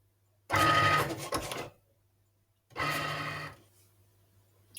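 Cricut Maker 3 cutting machine running its fine calibration cuts, two separate bursts of mechanical whirring and buzzing about a second long each, close and fairly loud over a steady low hum.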